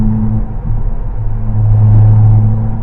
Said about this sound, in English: All right, here's rumble strip. Let's try that again. Can you hear it?